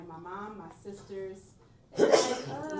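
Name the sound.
sneeze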